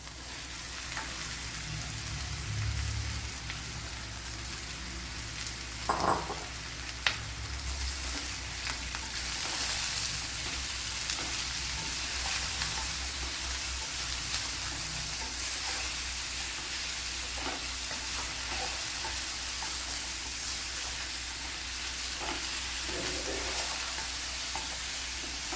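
Chopped snake gourd sizzles and crackles in a hot pan as it is stir-fried, a steady loud frying hiss running throughout with occasional scraping and knocking of a spoon.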